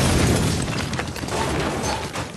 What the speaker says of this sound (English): that tank is destroying everybody